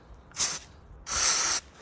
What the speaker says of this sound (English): I take a little bit of this fogger.